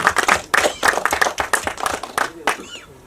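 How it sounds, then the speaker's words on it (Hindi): Applause at a film press conference for the movie Dashmi, a crowd of hands clapping in dense bursts with a voice speaking over part of it. "एक बार जोरदार तालियां प्लीज"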